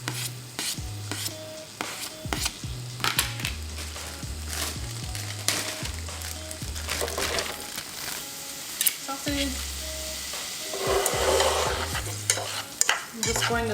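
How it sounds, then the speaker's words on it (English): Onion, peppers and garlic sautéing in vegetable oil in a saucepan, a continuous sizzle under repeated scraping and stirring strokes of a utensil, close and fairly loud, with occasional low hums and clatters. "I'm just going to saute this really well together."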